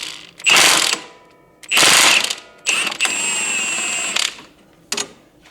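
A ratchet tool takes the 27mm nut off a Polaris 570, making loud, close ratcheting bursts with pauses between strokes, then a longer steady spinning whir and a final short burst.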